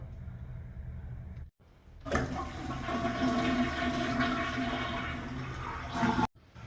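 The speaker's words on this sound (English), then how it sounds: "go ahead and flush your toilet" A toilet flushes with a sudden loud rush of water that swirls for several seconds, then cuts off abruptly, heard up close.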